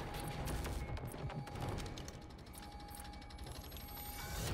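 Assault-rifle fire rattles in rapid, sustained bursts during a firefight in the shooter game Wolfenstein: The New Order, quiet and somewhat distant, with a steady hum running beneath.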